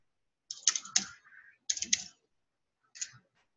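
Password typed on a computer keyboard: two quick bursts of crisp key clicks followed by a single lone tap, close and quiet in a silent room.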